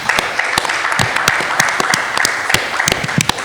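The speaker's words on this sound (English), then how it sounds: "Please give yourselves a round of applause" A crowd at a business panel event applauds steadily, dense clapping with sharper individual claps popping out of the wash, loud and close throughout.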